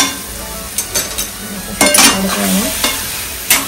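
Ingredients stirred and fried in a pan: a loud, close sizzle with a spatula scraping and occasional sharp clinks of metal against the pan.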